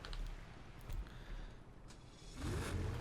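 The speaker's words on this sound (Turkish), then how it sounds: "Sese bak be. Bu arabaların sesi beni bitiriyor zaten." A video game car engine in GTA 5 revs and drones steadily, rising in pitch near the end, with no voices present.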